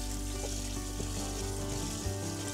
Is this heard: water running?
yes